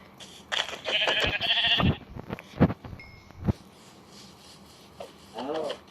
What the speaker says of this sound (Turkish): Koyun bulduk